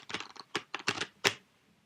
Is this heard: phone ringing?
no